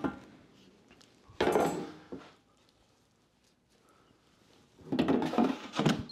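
Chicken pieces for KFC-style air-fried chicken drop into an air fryer basket in two bursts of clattering, knocking thuds with quiet handling between them, close and fairly loud, no voices.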